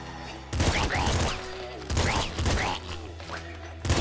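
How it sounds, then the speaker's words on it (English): Rapid shotgun blasts from the video game Nuclear Throne, loud bursts of fire in quick clusters separated by short pauses. "I can shoot this shotgun a lot of times"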